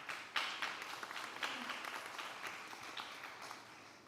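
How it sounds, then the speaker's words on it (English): An audience at a women's summit panel session applauds the panelists, a moderate round of scattered clapping heard from a distance that tapers off over a few seconds. "give a big round of applause to our amazing panelists"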